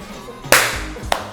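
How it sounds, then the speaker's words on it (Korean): A group claps once in unison as a slate for a film take in a Korean interview setting, making one sharp, loud clap followed by a softer, smaller second clap about half a second later. "하나, 둘, 셋 하고 박수 한번 맞춰주세요"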